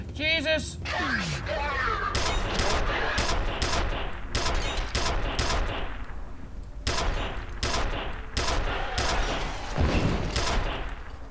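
Gunfire in the F.E.A.R. video game comes in repeated loud bursts of rapid shots, close and punchy, separated by short pauses, with someone talking over it.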